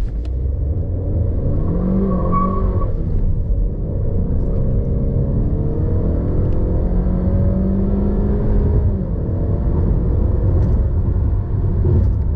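A 2021 Honda Accord 2.0 turbo accelerates, its engine building from a steady rumble into a rising, revving pull that stays loud and close throughout, with no talking.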